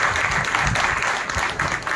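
Conference audience applauding to welcome a speaker at an educational conference, a dense, loud burst of clapping held steady throughout with no pause.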